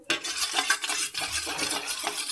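Melted wax and glycerin are stirred together in a pot over low heat, a close scraping and swishing with soft clinks of the utensil against the metal, irregular strokes with a faint sizzle beneath.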